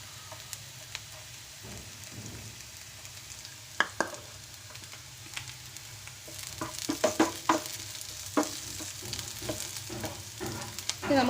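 Onion and green chili sautéing in a pan while being stirred, a quiet sizzle broken by scattered spoon scrapes and clicks that grow busier toward the end.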